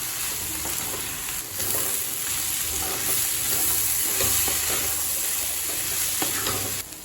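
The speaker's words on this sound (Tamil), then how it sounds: "இது கூடவே வேக வச்ச பீன்ஸு சேர்த்துக்கலாங்க. நல்லா மிக்ஸ் பண்ணிக்கலாம்." Boiled beans are stirred and mixed in a hot pan for a beans poriyal, with continuous sizzling and frying hiss and some scraping of the stirring underneath.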